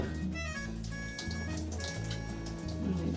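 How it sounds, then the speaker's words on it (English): Shower head releasing running water during a hair wash, a steady hiss of spray with shifting splashes and low rumbling as the flow strikes hair and surfaces, continuous and close. "If you push it up, it will release the water"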